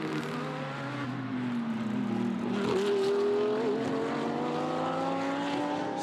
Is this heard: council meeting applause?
no